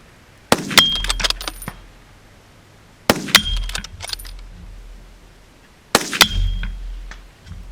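Three bursts of bullets striking a steel spinner target at a shooting range, each burst a quick cluster of sharp metallic clangs and rings, separated by pauses of a couple of seconds, with the spinner rattling and ringing down after each.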